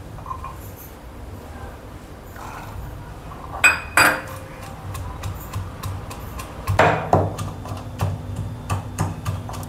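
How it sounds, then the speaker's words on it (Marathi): Green chillies and garlic pounded by hand, a series of irregular sharp knocks and clinks that grow busier and louder toward the end, close and dry, with no talking. "हिरवी मिरची आणि लसूण मी ठेचून घेते"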